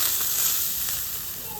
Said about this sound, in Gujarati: ચાલો આનો વઘાર છે નાખી દઈએ